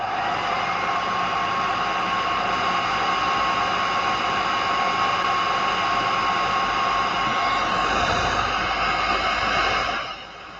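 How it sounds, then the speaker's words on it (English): Hair dryer running while drying a freshly painted miniature: a loud, steady blowing whir with a constant tone that holds unbroken and then cuts off near the end, with no voices. "Let me use the hairdryer for a second again"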